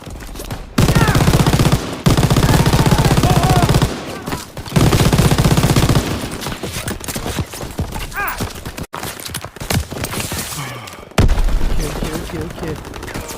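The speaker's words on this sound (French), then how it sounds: "Ouvrez le feu. Que quelqu'un prenne la mitrailleuse." Sustained machine gun fire in the shooter Call of Duty WW2: loud, close, rapid bursts broken by short pauses, with other battlefield gunfire and a voice calling out.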